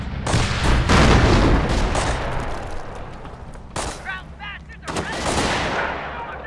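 Dense, loud gunfire and booming explosions fill a Company of Heroes 1944 battle, heavy rattling volleys easing slightly, then fresh bursts and bangs, with brief shouted voices over the din.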